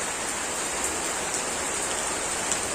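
Steady, even rain hisses down around a motorbike being tested for a long-start problem with a hot engine, continuous and moderately loud with no voices.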